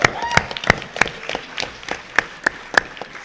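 Scattered, sparse clapping comes from a Comic-Con panel audience in San Diego, a handful of distinct claps spaced irregularly over a few seconds rather than a full ovation.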